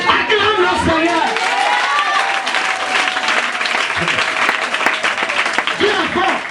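A church congregation applauds loudly and continuously to acclaim the Lord, dense clapping filling the space while a voice rises over it and speech is heard throughout.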